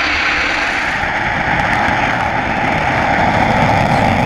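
SpaceX Falcon 9 rocket engines roaring at launch for the CRS-8 mission, a loud, steady broadband rumble with a deep low end that holds without break.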